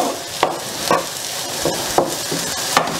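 Potatoes frying in a pan for aloo chop, a sizzling hiss under irregular stirring scrapes and clacks about every half second, close and steady, no voices.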